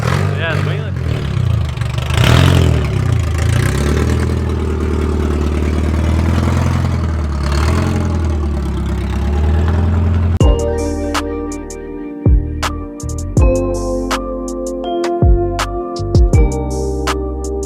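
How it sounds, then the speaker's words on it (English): A loud, rough car engine with a broken exhaust rumbles and revs, then settles into a ragged, popping idle with sharp bangs and stutters. "My exhaust broke. And it sounds like fuck."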